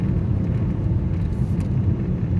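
A DIY electric conversion of a BMW E91 estate car accelerating hard in high gear, heard from inside the cabin as a steady, loud low rumble of road and drivetrain noise with no engine note.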